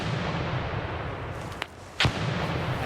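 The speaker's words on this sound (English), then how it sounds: "a nade explodes right in front of his face" Grenade explosion in the shooter game America's Army: Proving Grounds, heard as sharp cracks and a loud burst standing out over steady game background noise.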